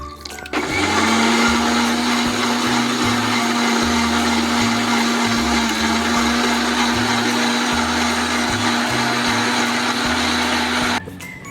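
Loud, continuous whirring of a mixer grinder blending beetroot, apple and carrot with water into juice, starting suddenly and holding steady for about ten seconds before stopping, alone with no speech.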